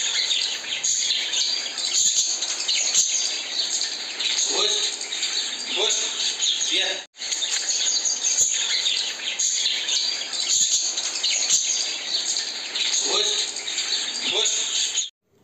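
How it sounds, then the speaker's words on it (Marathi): Birds chirp and call in a village orchard of custard apple trees over a constant high insect drone, with brief pauses in the outdoor ambience and no talking. "फक्त आपण पक्ष्यांचा आवाज ऐकूया"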